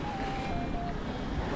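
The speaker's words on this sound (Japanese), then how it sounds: "波が高くて" Rough, high ocean waves wash in a constant broad roar close by, mixed with wind buffeting the microphone, with no pause or break in the wash of water.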